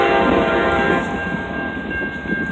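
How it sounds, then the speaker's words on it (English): An Amtrak train rumbles steadily close by through Effingham, Illinois, with a sustained tonal horn-like note running through the broadband roar; no voices. "We got a train coming."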